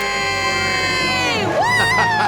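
A couple lets out a loud, drawn-out joint scream followed by shrieks and whoops, while a large crowd cheers around them, all close and continuous.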